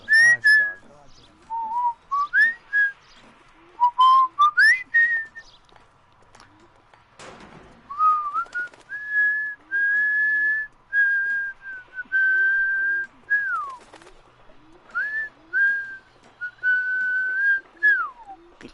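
A person whistles a tune in clear, bright phrases with short pauses between them, up close and loud, during an L.A. Noire game session, with faint background sounds beneath.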